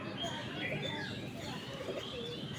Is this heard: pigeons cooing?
yes